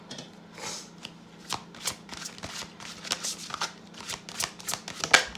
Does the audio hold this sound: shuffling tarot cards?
yes